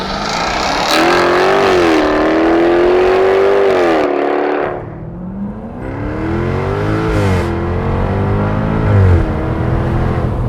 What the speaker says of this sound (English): 575 horsepower, 516 pound-feet of torque from a supercharged 5-liter V8